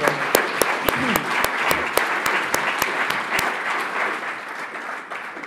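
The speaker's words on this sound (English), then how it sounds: "Big round of applause, please, for Susan Freeman." An audience at a local government conference session applauds a speaker, steady clapping with a few sharp, loud individual claps standing out near the front before the applause gradually thins.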